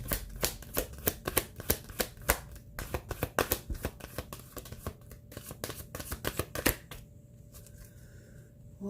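Deck of cards shuffled for a three-card spread reading: steady, close, rhythmic riffling with quick repeated snaps for several seconds, then a brief quieter stretch near the end.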